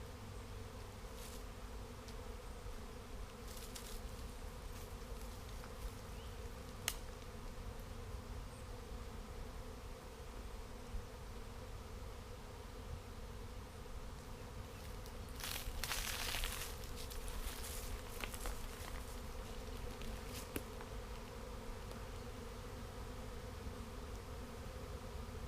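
A large honeybee swarm hums steadily at a hive, a dense continuous buzz close by with individual bees passing the microphone now and then, alone without any voices.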